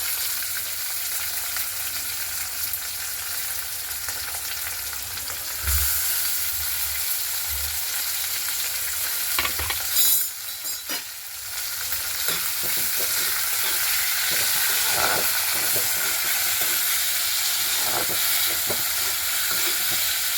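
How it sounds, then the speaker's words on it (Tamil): Curry leaves and chopped onions frying in a pan give a loud, continuous sizzle with stirring scrapes, and the hiss surges briefly partway through. "அதுக்கு பிறகு கருவேப்பிலை போடுறேன் அதுக்கு பிறகு வெட்டி வச்சுருக்க வெங்காயம் போடுறேன்"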